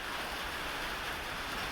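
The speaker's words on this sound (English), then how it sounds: "Lots of rain." Rain pours down over the bayou in a constant, broad hiss, unbroken and fairly soft, with no one talking over the wet wash of falling water.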